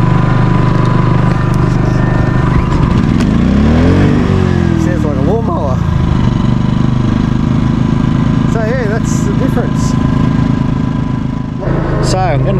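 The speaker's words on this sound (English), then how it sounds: "So we've got the generator on, that's plugged into the van" A Honda generator runs steadily throughout, a continuous engine drone close by, with a voice talking over it partway through.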